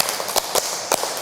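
A few crisp hand claps in a quick irregular pattern, near and moderately loud, as part of a classroom ice-breaker clapping game.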